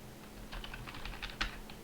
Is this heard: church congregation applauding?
no